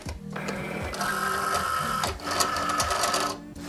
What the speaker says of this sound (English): Gonna load your Cricut mat in.